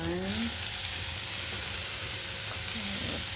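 Sukitti keerai greens hit a hot pan with a steady broadband sizzle, a brief stirring scrape near the start and end, continuous and fairly close with no talking.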